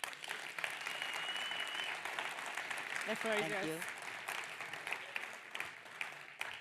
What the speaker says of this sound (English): a big applause for Mina Jack.